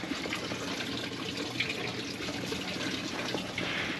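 Water runs steadily from a tap or hose to water corn on a homestead, a continuous broadband rush of flow with no breaks and nobody speaking.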